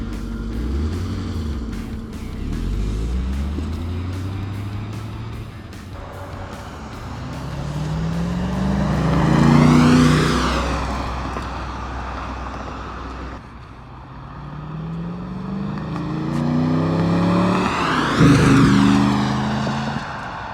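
A 1990 Chevrolet Corvette makes two flybys, its engine swelling loud as it rushes past with a falling pitch sweep each time, then fading into the distance.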